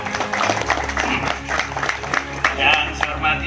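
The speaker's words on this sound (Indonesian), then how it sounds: "Tepuk tangan untuk kekompakan para musbidah kita." An audience at a bridge inauguration ceremony in Kalibagor breaks into brisk clapping, a dense patter of many hands, while a voice talks over it on a loudspeaker.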